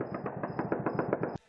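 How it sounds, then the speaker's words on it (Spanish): Rapid bursts of celebratory automatic gunfire shot into the air by Taliban fighters marking the US withdrawal, loud, dense cracks for over a second, then cutting off abruptly. "Disparos al aire y fuegos artificiales"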